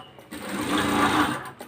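Sewing machine stitching the end of a fabric lining, a short steady whirring run of needle strokes that starts and stops abruptly, close and fairly loud, with no speech over it.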